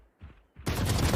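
Gunshots ring out in Valorant during a professional esports match, two faint early shots followed by a loud dense burst of rapid gunfire that carries through to the end.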